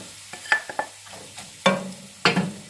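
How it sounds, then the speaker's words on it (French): Sliced carrots and onion tossed into a hot pan on a new cooking range for stir-fried noodles, a few sharp sizzling bursts as the vegetables hit the oil and get stirred, close and loud. "On ajoute nos carottes et notre oignon."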